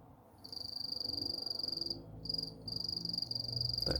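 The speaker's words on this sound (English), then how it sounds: "That cricket is singing the song of my people." A feeder cricket kept for a tarantula chirps in a steady, fast pulsing trill nearby, pausing briefly twice, with a soft thump at the very end.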